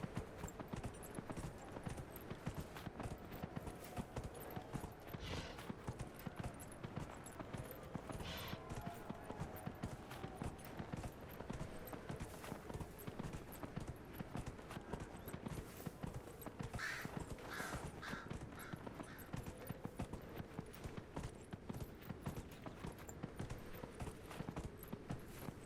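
A horse gallops in the game Dragon Age Inquisition, with steady, rapid hoofbeats thudding in an unbroken rhythm for the whole stretch, fairly quiet.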